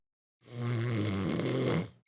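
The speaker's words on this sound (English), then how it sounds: "Snoring in albergues is a real problem." A sleeping person in a pilgrim hostel dormitory lets out a single long, rasping snore, close and loud, rising and ending within about a second and a half against otherwise silent surroundings.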